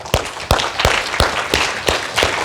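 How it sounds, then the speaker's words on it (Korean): A church congregation at a Sunday service in Hawaii claps in encouragement, with sharp, evenly spaced claps in a steady rhythm of about three per second, close and fairly loud, with no talk over them. "우리 격려 박수 한번 해줘요."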